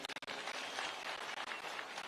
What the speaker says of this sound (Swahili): Wapi makofi kwa rais wetu.